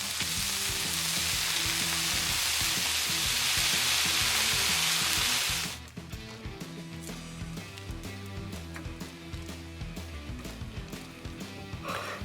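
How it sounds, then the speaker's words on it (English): Venison bacon frying on a flat top gives a loud, dense sizzle for about six seconds, then a quieter crackle and pop of grease continues close up, with no talk. "I'm really excited to get this on the flat top and try some"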